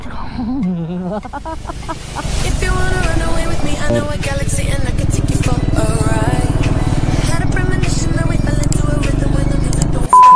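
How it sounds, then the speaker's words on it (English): A motorcycle rides over a rough road, its engine droning steadily with rattles and scrapes of the bumpy surface, loud and close, while a rider's voice speaks over it near the start. "Boys, this bike is meant for such roads."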